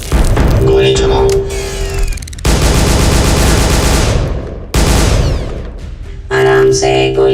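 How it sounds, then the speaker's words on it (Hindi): Rapid bursts of automatic gunfire in a Hindi-dubbed Hollywood action film, loud and sustained in long volleys with brief gaps, mixed with music and effects. "गोली चलाओ।"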